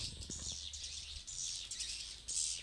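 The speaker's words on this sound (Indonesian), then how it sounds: "Burung." Faint, high bird chirps twitter in quick bursts against a quiet, hissy background, with a low rumble early on.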